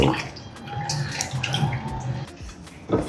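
Water from a tap runs steadily over salted red snapper as it is washed at a kitchen sink, a continuous close splashing with a brief louder splash at the end.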